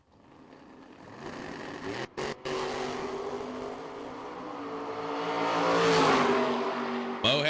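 A wheel-standing Chevrolet Monza and a 1963 Chevy II drag race. Their engines roar steadily, rise in pitch and loudness toward a peak, then ease off, with two brief cutouts early in the run.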